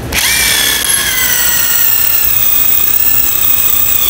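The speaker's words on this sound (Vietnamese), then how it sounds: "Em test khoan tường này." A Makita brushless cordless multi-purpose drill bores into a wall, a loud, close, steady high whine that spins up at once and holds evenly throughout without speech.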